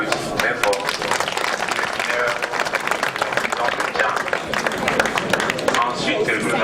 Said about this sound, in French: Et voilà, on applaudit très fort.